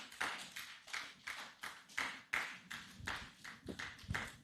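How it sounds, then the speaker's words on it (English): Quiet, sparse applause at an annual general meeting and scientific conference of a Lagos State healthcare association, with individual claps ringing out in an uneven rhythm, thin and somewhat distant. "Please, let's applaud."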